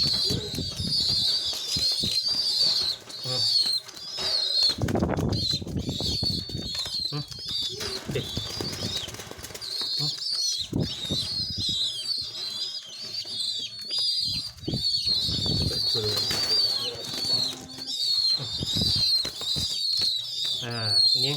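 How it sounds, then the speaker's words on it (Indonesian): Young pigeons around 25 days old stir and flap their wings near a handler, with soft cooing and chirping calls, wing flutters and handling noises, while someone talks over them throughout. "jenis merpati yang sama pun responnya berbeda"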